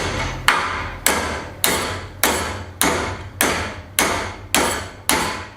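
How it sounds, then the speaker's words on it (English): A big hammer pounds wooden cabinet parts during a Spanish farmhouse renovation, landing nine heavy, evenly spaced blows about half a second apart, loud and close with no voices. "Where's my big hammer?"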